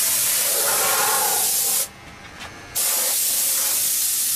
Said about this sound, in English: So what are you spraying on now then? That lacquer, clear lacquer.